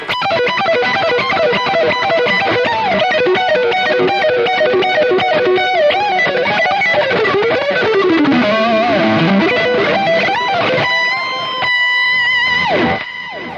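A distorted electric guitar lead tone from a Marshall Studio Vintage SV20 amp preset plays a busy, shreddy run of fast notes and bends, loud and sustained, ending on a held note.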